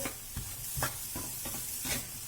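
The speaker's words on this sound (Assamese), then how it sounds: "এতিয়া মই অনিয়ন আৰু কেপচিকামটো ভাজি আছোঁ" Onion and capsicum sizzle in a hot pan while a spoon stirs and scrapes several times, close and fairly quiet, with no talking.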